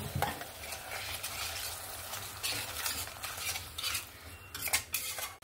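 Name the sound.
masala being fried and stirred with added water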